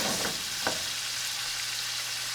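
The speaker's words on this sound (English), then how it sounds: "I'm going to bang in our pork. Just let this start cooking." Pork pieces frying in a pan with bacon and its salty fat, a continuous close sizzle with a couple of quick stirring scrapes early on.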